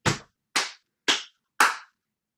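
Four sharp body-percussion hits in an even beat, stamps, leg slaps and claps, each a short crisp smack with a quick decay, heard alone with no talking in between.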